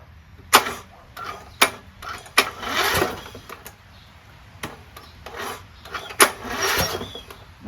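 A Briggs & Stratton single-cylinder lawn tractor engine cranks over with strained, uneven bursts of turning and rasping but does not catch, heard up close after a head gasket repair.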